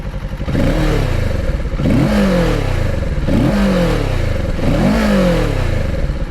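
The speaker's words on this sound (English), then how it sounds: "Let's just hear the exhaust." A Kawasaki motorcycle on its stock exhaust revs hard four times in a row, each loud close blip rising and then falling back to a rough idle, with no talking.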